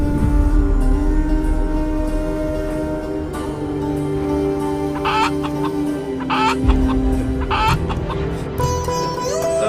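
Chickens clucking in a Malayalam movie scene, steady nearby clucks and short squawks over a constant hum and background din, with a few sharper bursts toward the end.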